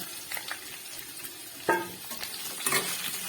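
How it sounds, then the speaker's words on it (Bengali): Radish, flat beans and tomato fry in a pan after bay leaf and ginger, giving a low, quiet sizzle with a couple of sharper utensil scrapes and clinks partway through. "মূলো, শিম, টমেটো দিয়ে আমি কিছুক্ষণ একটু ভেজে নেব।"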